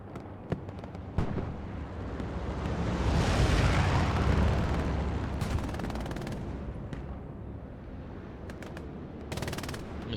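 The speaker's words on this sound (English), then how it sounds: "I think that's the MG peppering" Machine gun fire in the World War II shooter Hell Let Loose, heard as a sustained rumbling barrage of distant automatic bursts and explosions that swells in the middle and then settles, with sharp shots cracking over it.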